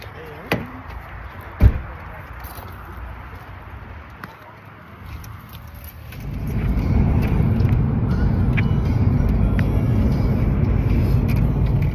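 Riding inside a yellow car, a quiet cabin with a couple of sharp knocks gives way about halfway through to a steady low rumble of engine and road noise that keeps going to the end.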